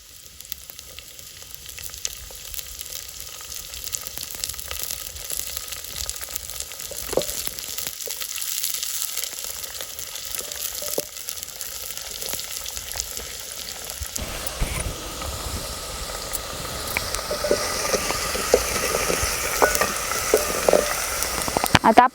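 Onion frying on a wood-fired stove, a soft continuous crackle that swells into a brighter, louder sizzle once spring onion greens hit the pan, with occasional stirring scrapes.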